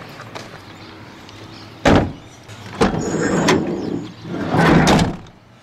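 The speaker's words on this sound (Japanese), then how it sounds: "ドア閉めた時の音が違うもんな。" A car door, its panels treated with sound deadening, shuts with a solid, muffled thunk, and a couple more heavy thuds and rustles follow close by.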